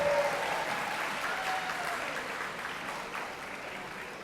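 Steady applause from a ceremony audience honoring a school class moving up a grade, a continuous soft roar of many hands that holds evenly and eases slightly toward the end.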